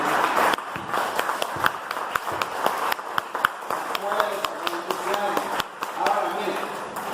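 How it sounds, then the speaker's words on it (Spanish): Rhythmic hand clapping from a church congregation, steady sharp claps keeping time under a voice speaking and singing loudly over them. "Vamos a aplaudir con gozo, hermano, con alegría."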